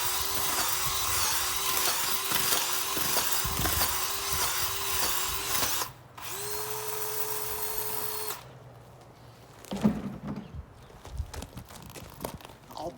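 A power drill whirs steadily while churning thick fast-set thinset mortar, then revs at a higher, smoother pitch before stopping, followed by scraping and clunks.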